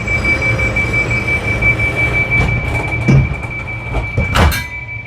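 A high-speed passenger train running between London and Brussels rolls along the rails with a steady close rumble, a thin sustained whine and occasional thumps, with no talking.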